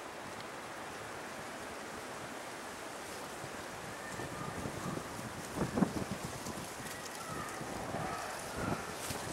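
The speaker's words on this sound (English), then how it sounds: "the wind's blowing me around" Steady outdoor wind buffeting the microphone, a constant low rushing roar that swells slightly with a few faint gusts and rustles.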